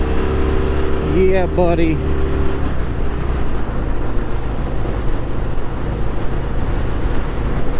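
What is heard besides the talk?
2018 Harley-Davidson Softail Fat Bob motorcycle engine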